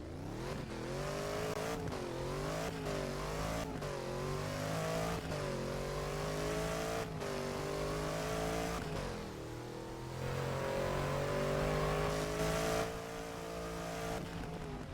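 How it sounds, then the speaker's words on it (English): A Lamborghini Urus SE engine in a driving video game revs aggressively, again and again. Its rising and falling engine note is loud and close, with sharp throttle blips and no talk. "That is one aggressive rev."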